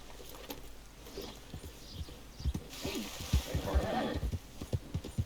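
Horse hooves clip-clop and a horse whinnies in the Red Dead Redemption 2 video game, scattered thudding steps building in the second half under a soft background, with faint talk.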